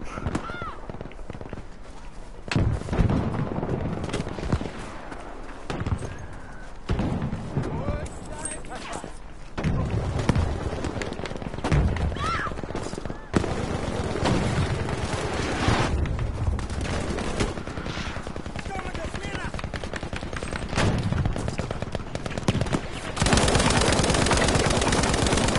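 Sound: gunfire in a Battlefield video game

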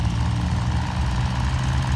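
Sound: tractor engine idling

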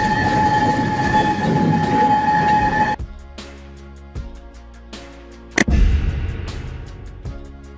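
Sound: funicular cable railway

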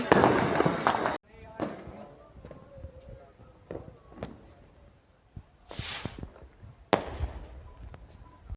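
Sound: firecrackers set off at night for Diwali

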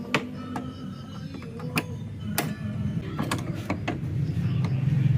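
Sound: tightening bolts on Honda Click front shock

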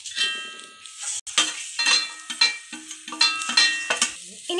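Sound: stirring turmeric and salt into banana leaf thoran in pan

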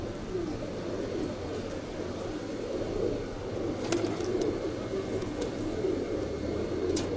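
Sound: pigeons cooing

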